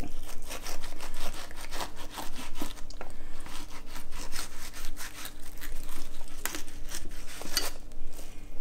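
A knife scrapes and slices along a small striped bass while it is filleted, making steady, close rasping strokes that run continuously, with one brief spoken word.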